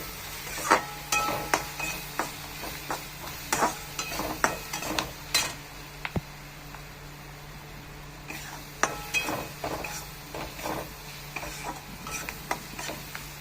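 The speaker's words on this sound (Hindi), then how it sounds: "प्याज भाजी हो गले एटा प्याज पके देला" Chopped onion stirred in a hot pan for paneer bharta, with a spatula scraping and clinking against the metal in irregular strokes over a low, steady sizzle, close and moderately loud, with no talking.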